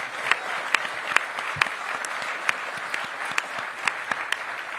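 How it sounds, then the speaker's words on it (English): An audience claps steadily in warm, dense applause, with a few sharper individual claps standing out, no voices. "Give them a big round of applause."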